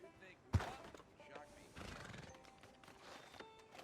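A horse in a Western video game whinnies and its hooves clop faintly around a sharp thud, with game characters talking over the quiet scene.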